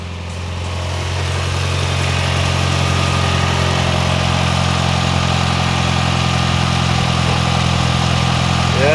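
Mitsubishi Evo 7 engine settling into a steady idle just after starting, following a fuel pump install; a constant, even low rumble close by, with no talking over it.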